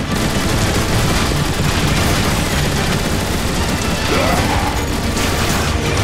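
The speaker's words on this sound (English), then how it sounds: "I think you can take them out with the gun emplacements!" Gun emplacement turrets fire nonstop during a battle in the Transformers War for Cybertron video game, a dense, loud barrage of rapid blasts and crashes that never lets up, with faint voices mixed in.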